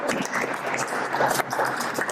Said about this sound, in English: Give him a bow and a round of applause back